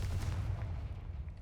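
A Confringo fire spell blast in Hogwarts Legacy, heard as a steady, dense booming rumble with crackling energy, loud and sustained throughout with no talk.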